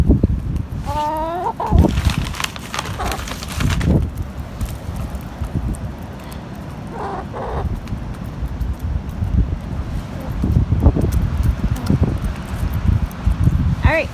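Backyard chickens cluck and call in short bursts while being fed dried mealworms outdoors, with wind noise and rustling throughout and a person talking nearby.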